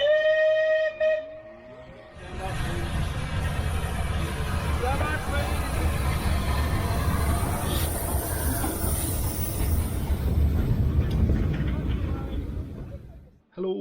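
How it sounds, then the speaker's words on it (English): Aboard a heritage railway train near Cheltenham, a steady low rumble of the carriage in motion follows a brief whistle-like tone at the start, with people talking faintly under the running noise. "We're on the train at Cheltenham."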